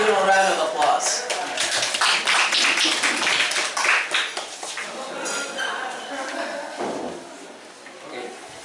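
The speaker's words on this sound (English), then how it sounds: "Please give him a round of applause." Audience applause welcoming Mr. Motochika Suzuki to the stage at a Japanese food event, a dense burst of many hands clapping at close range that fades gradually toward the end, with chatter mixed in.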